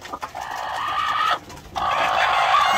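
Gray hens in a backyard egg-laying coop clucking steadily and close, a continuous busy chorus of fowl calls with a brief dip in the middle, no talking.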